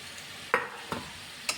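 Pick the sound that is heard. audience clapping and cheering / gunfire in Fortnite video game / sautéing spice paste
sautéing spice paste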